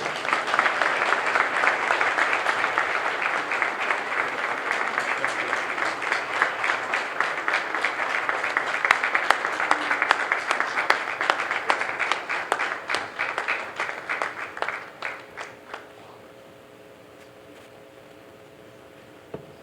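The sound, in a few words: applause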